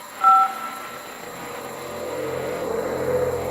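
Telephone dialing tones in The Beginner's Guide video game: a short, loud two-tone keypad beep near the start, then a low electronic hum and faint later tones.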